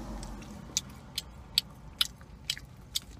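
Close, crunchy bites and chewing on a piece of bacon dipped in icy milkshake, about six sharp crunches spaced evenly over a low background rumble.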